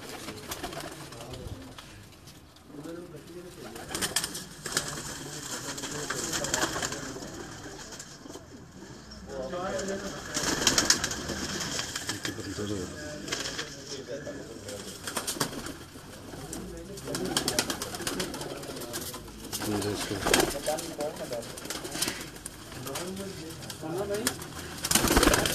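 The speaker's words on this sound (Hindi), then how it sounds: "कबूतर आपको दिखाया जा रहा है" Chini pigeons of a famous breed coo in low, throaty bursts close by, with other birds calling and people talking throughout.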